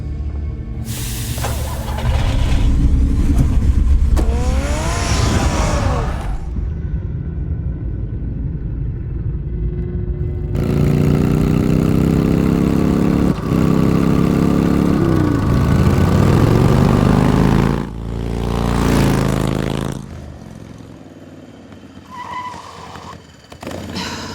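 A car in Batman: The Telltale Series roars and rumbles loudly as it starts and drives off, its engine rising and shifting with a skid and whooshing passes, then fading to quieter ambience near the end.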